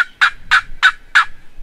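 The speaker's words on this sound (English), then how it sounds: "One may gobble." A wild Rio turkey gobbles during a Kansas spring hunt, four loud, sharp, rattling bursts in quick even succession, close and clear with no voices.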